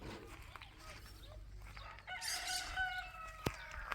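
Backyard chicken coop with hens and a rooster: crowing and clucking rise midway over a quiet yard hum, moderately close, with a sharp knock near the end.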